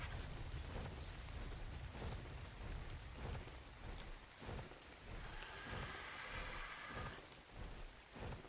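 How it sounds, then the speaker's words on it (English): Steady rain pours in a video game, a dense, constant hiss with low rumbling thunder underneath, with no talk over it. "Had to rain. Just had to rain here."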